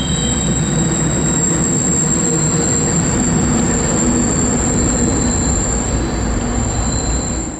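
A Norfolk Southern freight train rolls past in heavy snow on the Christiansburg District, a loud, continuous rumble of wagons with a steady high wheel squeal over it, close by and with no voices.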